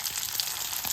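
Chopped tomato going into onions frying in hot oil in a home kitchen, giving a steady close sizzle with soft crackle throughout, no talking.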